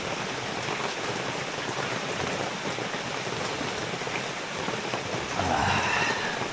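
Heavy rain pours down steadily, a dense continuous hiss of drops drumming on surfaces, with no voices.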